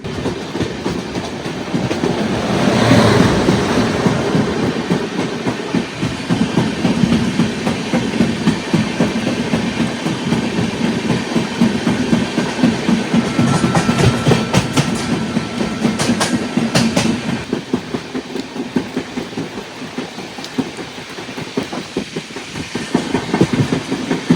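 The Swarna Jayanti Express runs slowly through fog, a steady loud rumble with rhythmic clickety-clack of wheels on rail joints heard from inside an AC two-tier coach, continuous throughout with no talk.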